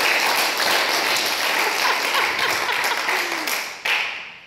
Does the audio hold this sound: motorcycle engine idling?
no